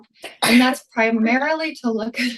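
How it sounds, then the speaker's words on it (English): A sudden sneeze bursts out during a podcast conversation, loud and close, set between stretches of spoken talk. "Like sneezing all of a sudden."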